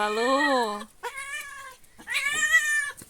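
An old cat meows three times, long and wavering, loud and close, with brief pauses between the cries, while a young dog pesters it.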